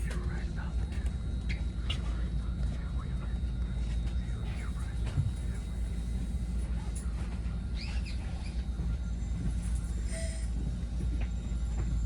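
A Caltrain commuter train rumbles steadily with a low, continuous drone as it pulls into San Mateo Station, while faint bird chirps and brief squeals come through over the top.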